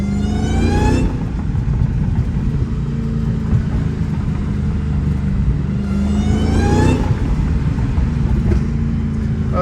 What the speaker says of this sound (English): I wonder if you can hear those burbles on camera.